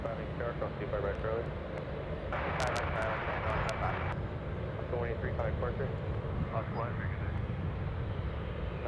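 Steady, heavy jet roar from a Delta airliner taking off at Anchorage airport, a broad continuous rumble with voices talking over it throughout.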